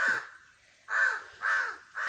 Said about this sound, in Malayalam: കാക്കക്കുട്ടി. കാക്കക്കറുമ്പി പെണ്ണെവിടെ പോയി.